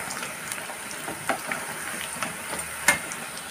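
Boiled-egg kofta balls fry in oil in a pan over a low flame, giving a soft, steady sizzle with light scattered crackles and pops.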